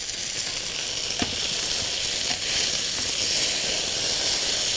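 Food frying in a pan on a home stove for a Bengali dinner gives a steady close sizzle and hiss, with a couple of soft stirring scrapes and no talking.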